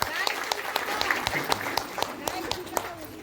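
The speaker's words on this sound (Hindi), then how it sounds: "अपने जिंदगी बदलने के लिए जोरदार ताली।" A crowd at a Safe Shop gathering in Jharkhand claps steadily for a few seconds, a dense patter of hands with sharper individual claps poking through and a voice faintly underneath.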